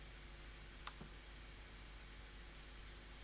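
A single sharp click, like a light switch, snaps once against a faint steady hum, followed by quiet.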